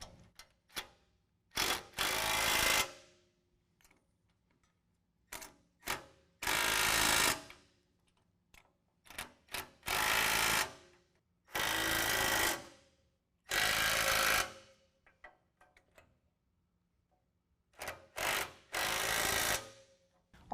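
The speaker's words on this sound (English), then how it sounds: "I'm going to go ahead and lock down all the hardware using 3/4 inch tools." Ratchet wrenches with 3/4 inch sockets tighten rear bumper hardware on a 2019 GMC Sierra 1500. Quick, close bursts of rapid clicking repeat about six times, with quiet gaps between them.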